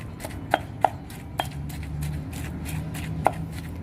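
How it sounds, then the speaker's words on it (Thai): Minced pork being pounded into a chili paste with a mortar and pestle, a handful of dull, irregular thuds with soft mashing between them, fairly close and moderately quiet, no voices. "ตำหมูสับให้เข้ากับเครื่องเลยค่ะ"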